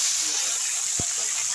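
Small fish frying in hot oil give off a loud, steady broadband hiss and sizzle, close and continuous, with a single low thump partway through.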